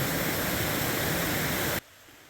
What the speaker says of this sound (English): there's a little bit of waterfall action going on here